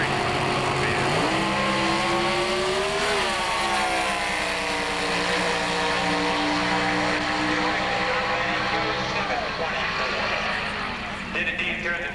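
A competition-class drag race car launches off the line and screams away down the strip at the 1990 Spring Nationals, a loud sustained engine roar with rising pitch and tire spin, continuous for the whole span under a commentator's talk.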